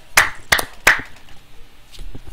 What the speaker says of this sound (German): Da kann man schon mal klatschen.